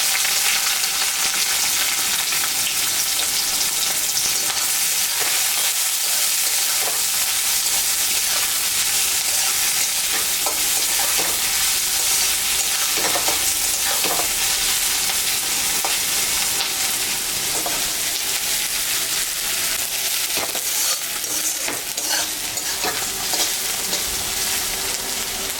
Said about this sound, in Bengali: এখানে লঙ্কা আমি কাটে নিচ্ছি আর পেঁয়াজ কুচি করা আছে, এটা আমি এখন একটু ভাজা ভাজা করব।